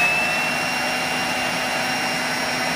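DeWalt XR brushless cordless leaf blower with a 5 amp-hour battery running at full power, a steady, loud rushing whine of air with a high motor tone, close and continuous throughout.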